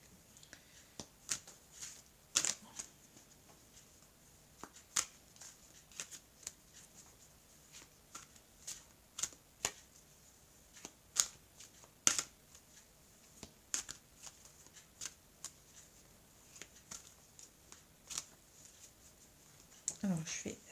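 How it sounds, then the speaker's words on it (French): Oracle cards riffled and shuffled by hand in a steady patter of crisp, dry flicks and snaps, close up, with a voice talking softly now and then. "je vais prendre maintenant les cartes de l'oracle coup de cœur"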